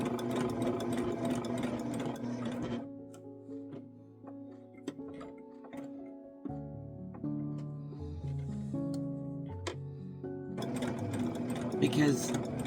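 Sewing machine stitching quilt block pieces for a lotus flower block, its rapid mechanical whir running in bursts at the start and end, with a quieter stretch between.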